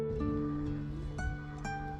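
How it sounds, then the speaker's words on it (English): Elk calling from a grassland and marsh state park near Buttonwillow, California: a sustained tonal call with high harmonic whistle-like rises at about 1.2 and 1.6 seconds over steady ambient noise, with no talk. "That's the sound of an elk."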